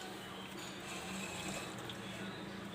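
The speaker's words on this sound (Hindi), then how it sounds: "इसके अंदर तकरीबन 1 गिलास भर के पानी के डालेंगे" About a glassful of water poured over prepared strawberries for a homemade drink, a faint, steady wash of liquid that runs evenly for a few seconds with no talking.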